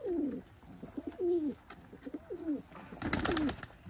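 Domestic pigeons at a Khulna loft coo in repeated soft, low, falling phrases, close and clear, with a brief burst of rustling near the end.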